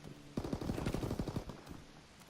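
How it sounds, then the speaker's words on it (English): Incendiary shells firing in Call of Duty WWII, a rapid burst of about ten loud, close shots in quick succession that rings out briefly before fading. "Oh, that's the incendiary shells."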